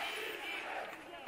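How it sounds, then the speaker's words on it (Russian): Syktyvkar fans at a bandy match chant and cheer as a steady crowd roar heard from a distance across the arena. "Мы слышим сыктывкарских болельщиков."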